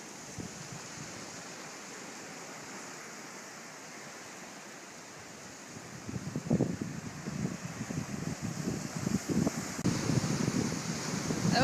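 Ocean waves on a beach beside a salt marsh at Hunting Island State Park, South Carolina, a steady faint surf wash with wind rumble, growing rougher and louder partway through as waves break nearer.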